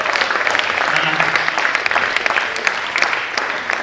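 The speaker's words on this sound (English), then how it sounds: "now this round of applause is too weak." Audience applause at a teenage career mentorship program event, a steady round of clapping from a crowd lasting a few seconds, fairly close and even, with some voices in the room.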